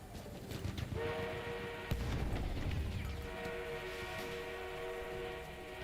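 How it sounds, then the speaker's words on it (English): An enemy armored train in the Battlefield 1 video game rumbles steadily, with sustained whistle-like tones and mechanical clatter under busy multiplayer battle noise. "An enemy armored train is en route."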